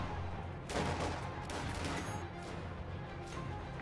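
Rifle fire in a World War II strategy game comes as several bursts of crackling shots over a steady battle din, moderately distant and fairly quiet, with no talk.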